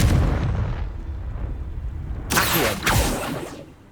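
A Confringo fire spell in Hogwarts Legacy goes off with a heavy booming burst that decays, then two sharp, loud crackling blasts follow close together before fading out.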